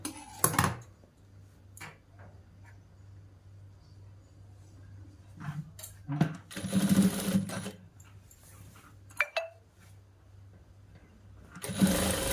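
A sewing machine stitches the collar of a boys' school uniform shirt in short, separate bursts with quiet pauses between them, close and fairly loud, with faint handling clatter.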